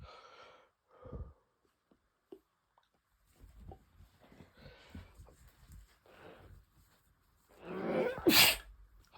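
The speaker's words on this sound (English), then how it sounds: "I'm sorry for all my sneezing" Several sneezes from a person with allergies, loud bursts scattered among quiet breathy sounds, the strongest sneeze near the end.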